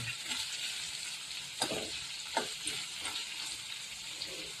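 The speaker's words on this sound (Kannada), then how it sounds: "ಈರುಳ್ಳಿ ಸ್ವಲ್ಪ ಕೆಂಪಗಾದ ಮೇಲೆ ನಾವು ಟೊಮೊಟೊವನ್ನು ಸೇರಿಸ್ತೀವಿ" Onions fry in a pan for tomato chitranna, making a soft continuous sizzle broken by a few short stirring scrapes, close by and without speech.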